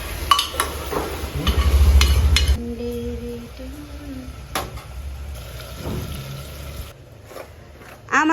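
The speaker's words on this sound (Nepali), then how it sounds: "चिकन सुप बन्दैछ हाम्रो।" Chicken soup for momos cooks in a home kitchen, with a ladle clattering and stirring in a pot. A low simmer runs underneath, and scattered clinks and knocks follow, with no talking.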